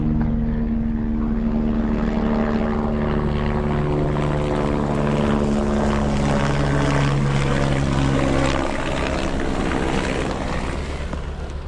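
Small aircraft and a private plane circle overhead near the Matterhorn above Zermatt, a continuous droning engine hum that stays steady and fairly loud throughout, with wind-like background noise and no talking.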